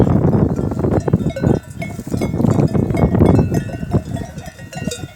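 A flock of sheep with cowbells grazes on dry, drought-hit pasture, bells clinking and a few bleats amid a busy, fairly loud outdoor bed of rustling and movement, no voices.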